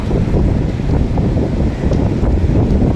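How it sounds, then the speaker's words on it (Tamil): Strong wind blowing at Kovalam beach buffets the microphone with a loud, constant low rumble and roar, likely mixed with surf, throughout the short stretch. "எவ்வளோ காத்தடிக்குது பாருங்க"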